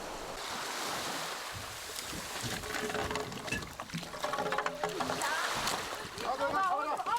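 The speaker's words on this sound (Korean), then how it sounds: "아니나 다를까 파도가 거세진다." Rough sea waves surge and crash around a small island, with wind buffeting the microphone and an irregular rush of surf that swells louder toward the end, under a narrator's speech.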